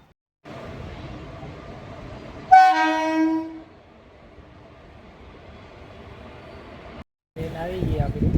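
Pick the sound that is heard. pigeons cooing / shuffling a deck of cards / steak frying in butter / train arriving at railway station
train arriving at railway station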